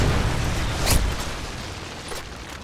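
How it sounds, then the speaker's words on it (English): A Predator missile explodes in the video game Call of Duty: Modern Warfare 3: a dense, booming blast over a constant roar of battle noise, with a second, fainter burst shortly after. "friendly Predator missile inbound."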